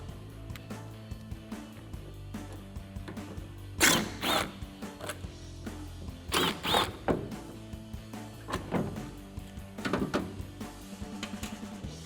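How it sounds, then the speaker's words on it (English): A T15 Torx socket working the two inner taillight bolts on a 2014-2018 Silverado 1500, heard as close ratcheting clicks and metallic clatter in short bursts with quiet gaps. "we're gonna grab a T15 Torx socket or Torx bit. We're gonna remove the 2 bolts on the inside of the taillight."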